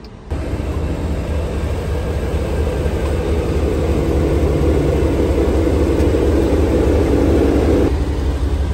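A Jeep Grand Wagoneer's 6.4-liter engine runs with a loud, steady low rumble and broad roar that holds for several seconds, close by and without talk.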